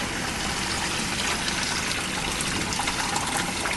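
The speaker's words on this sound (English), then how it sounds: "we're going to fill up this container about halfway with water" Water runs from a sink tap into a container, a steady close gushing splash that stays even and unbroken throughout, with no voices.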